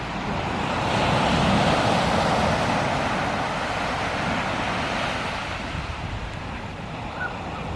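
Waves wash onto Portobello beach in Edinburgh, a continuous broad surf roar with wind buffeting the microphone, fairly loud and unbroken, with no voices.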